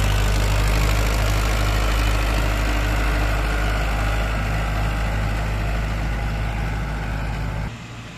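Tractor engine running with a laser land leveller in a farm field: a steady, loud, low diesel drone that holds evenly for several seconds, then drops slightly in level near the end, with no talk.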